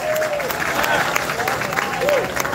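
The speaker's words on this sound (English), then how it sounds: "a round of applause for their performance" Crowd applause after a company's performance at a Liberation Day church celebration, a continuous wash of clapping with faint whistles or cheers mixed in throughout.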